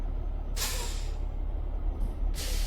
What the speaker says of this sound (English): I had to use my trailer brakes.